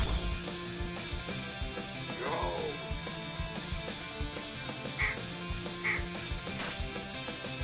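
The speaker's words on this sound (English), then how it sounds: "I think the duck, when you hit him, he just quacks at you" Short duck quacks from the video game Cthulhu's Paradox pop up a few times over looping retro game music, close and clear, with no one talking.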